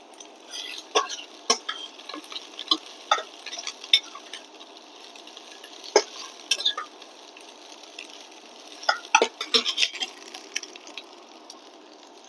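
Onion and half a garlic clove frying in a pan until lightly browned, a faint quiet sizzle broken by sharp irregular scrapes and taps of a spatula against the pan, close by.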